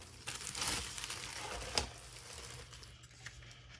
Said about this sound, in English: Let me rip one of these open.